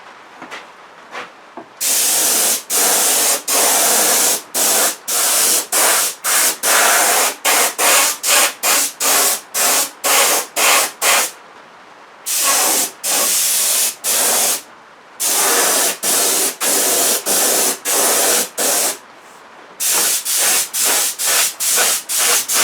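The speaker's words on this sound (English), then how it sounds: "now doing a really wet coat over the top of them heavy dust coats" A spray can lays a heavy wet coat of paint on motorbike parts in repeated loud, close hissing bursts of one to two seconds, separated by short gaps.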